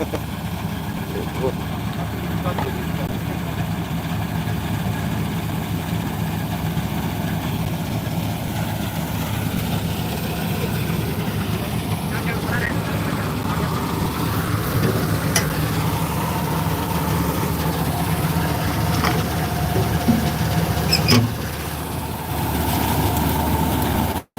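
A combine harvester cutting wheat drones with a steady low engine rumble throughout, fairly loud and continuous, with faint voices underneath.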